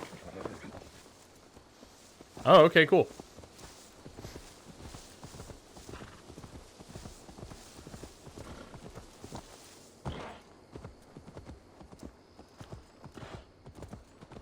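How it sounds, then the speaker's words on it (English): Horse hooves clip-clop in a steady, quick rhythm in Assassin's Creed Valhalla, with a brief loud whinny-like burst early on and a short spoken remark. "If we call a horse"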